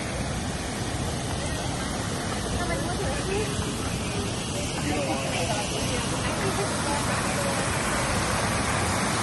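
A park fountain's water rushes steadily in a dense, hissing wash, loud and unbroken, with faint crowd murmur blended underneath, in Downtown Cary Park.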